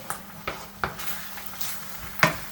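A spoon stirs a vegetable curry with milk in a pan over lowered heat, giving a few soft scraping knocks and clinks against the pan over a faint simmer, close and fairly quiet.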